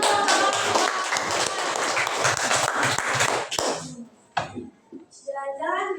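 Classroom applause for a small motorbike with an attractive body, dense clapping for about three and a half seconds before it cuts off, followed by a few scattered claps and brief speech.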